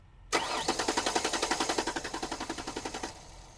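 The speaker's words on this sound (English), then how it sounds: "now I'm going to go ahead and start my engine" Ford Explorer Sport Trac, with freshly replaced ignition coils and spark plugs but still running poorly, cranks with a steady rhythmic chugging of the starter for about three seconds before cutting off, close and loud with no talking.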